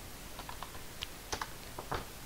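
A password typed on a computer keyboard: a handful of sparse, light key clicks at uneven intervals, close but quiet over faint background hiss.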